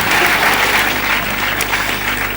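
A loud, dense round of audience applause on the front lawn of a literature festival, many hands clapping together in a steady roar from start to finish, with no talk.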